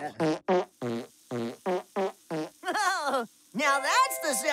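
A cartoon run of short, voiced fart noises in quick succession, then a few longer, wobbling drawn-out toots, loud and close with brief gaps between them.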